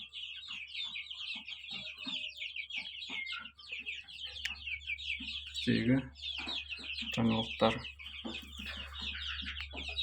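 Month-old Kuchinskaya Jubilee chicks peep in a dense, continuous high-pitched chorus, with someone talking over them and a few louder bursts of nearby noise.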